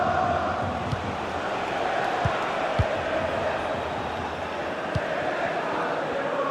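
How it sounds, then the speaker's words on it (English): Stadium crowd noise fills an FC 26 football match between Arsenal and Atlético Madrid in a Champions League semifinal, a steady dense roar with occasional sharp thuds, continuous and fairly loud. "the crowd noise says it all"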